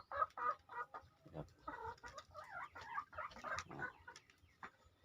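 Chickens clucking softly and repeatedly nearby as they feed, a quiet run of short throaty calls with faint rustling beneath.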